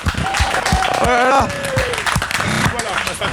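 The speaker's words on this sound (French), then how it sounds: "Les collègues, applaudissements pour Marc Rakil" Colleagues clap for a competitor arriving at a Transmartinique race checkpoint in Martinique, scattered nearby applause mixed with loud overlapping talk and shouts, one voice rising in a drawn-out call.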